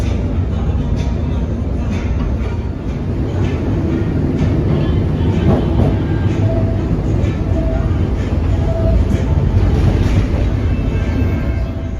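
An old streetcar trolley runs on rails in Kenosha, giving a steady, loud low rumble and rolling drone that continues unbroken throughout, with faint squeaks above it.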